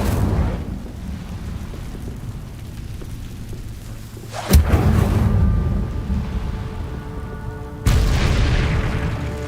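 Fire spell cast in the video game Hogwarts Legacy: two loud, sudden whooshing bursts, each swelling into a roaring blaze over a low rumbling backdrop.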